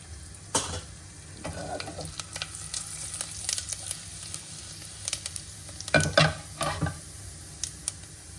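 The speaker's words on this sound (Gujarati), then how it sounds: "ઘી ગરમ થઈ ગયું છે એટલે આપણે આમાં નાખી દઈશું ખાલી જીરું જ" Cumin seeds for jeera rice sizzle and crackle in hot ghee in a home kitchen, a steady close frying hiss broken by a few louder stirring scrapes and pops.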